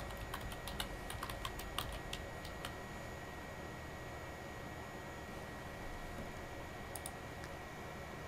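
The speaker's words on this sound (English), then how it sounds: "so I'll type in an email" Typing an email address on a computer keyboard: scattered quick key clicks, clustered in the first few seconds and again near the end, faint against a steady background hiss.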